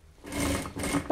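A sewing machine stitching a seam along the inside edge of a homemade fabric top with sleeves, a brief close whirring run that pauses and starts again, ending with a small click, with no talking.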